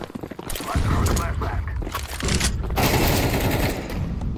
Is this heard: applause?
no